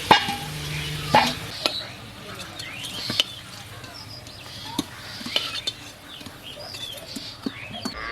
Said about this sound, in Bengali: আলুগুলো লাল লাল করে ভেজে নিয়েছি, তুলে নিচ্ছি